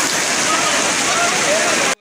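Heavy rainwater rushing and pouring in a steady, loud, continuous wash, filling drains and channels, with no voices over it, cutting off abruptly at the end.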